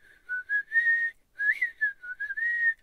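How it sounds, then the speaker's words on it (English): A person whistles a short tune close by, clear melodic notes in two phrases with a brief pause between, alone without talking. "Can you whistle?"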